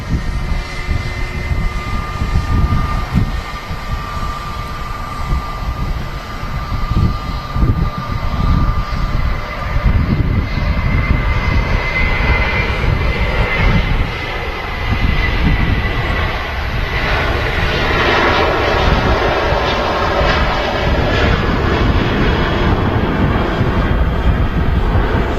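Loud, continuous roar and whine of airliner jet engines taxiing close by at Manchester Airport, a steady rushing drone with a high tone drifting through, no speech.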